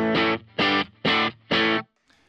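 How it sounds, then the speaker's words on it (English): Electric guitar played through a Fender Tone Deluxe Reverb amp model gives four evenly spaced, loud strummed chords, each ringing briefly before cutting off, then a faint trailing note. "So now we have the deluxe amplifier and it sounds like this."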